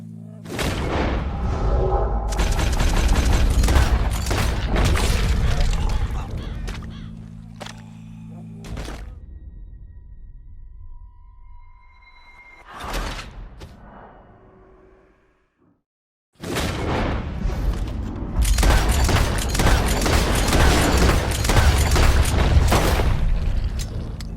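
Gunfire in Red Dead Redemption II: loud, dense booming bursts in the opening stretch, a quieter lull with a single sharp report, then another long barrage of heavy shots near the end.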